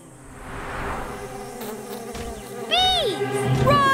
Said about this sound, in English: What's that buzzing noise?